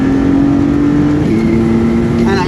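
Maserati MC20 accelerating on a track, its engine note a loud, close, rising harmonic drone that dips briefly at a shift and then climbs again.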